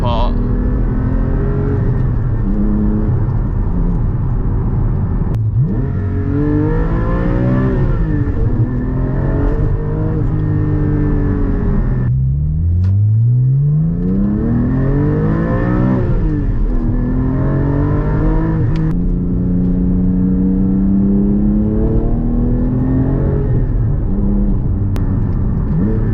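A manual Porsche 718 Cayman GT4's engine revs up and down through repeated gear shifts, its pitch climbing and dropping in long sweeps with a deep dip midway, loud and constant from start to finish.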